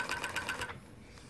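Juki MF-7523 coverstitch sewing machine running a short stitch length: a rapid, even burst of needle clatter for about two thirds of a second, close and clear, then stopping into quiet.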